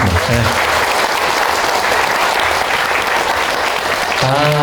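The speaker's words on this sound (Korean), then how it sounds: "박수 한번 주세요." Loud, close applause from a lecture audience at a meditation talk in Daejeon, a dense wash of clapping throughout, with brief voice fragments at the start and end.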